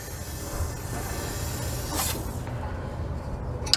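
An Eastwood internal frame coating aerosol sprays through holes into a vehicle frame, producing a steady, close, hissing spray that holds for a few seconds with slight surges.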